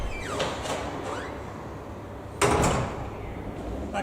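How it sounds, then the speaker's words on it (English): A manual lift door in a police station slides and rattles shut, with a first scraping movement and then a louder clunk as it closes, near and without speech. "closing the door behind him"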